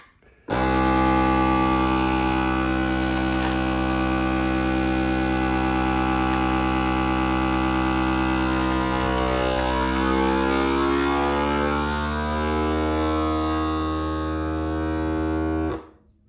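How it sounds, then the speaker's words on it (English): A FoodSaver V4880 vacuum sealer vacuum-seals a bag of beef roast, its motor starting abruptly into a loud, steady droning hum that holds for about fifteen seconds and then cuts off. "here I'll show you how I would vacuum seal a bag of beef roast"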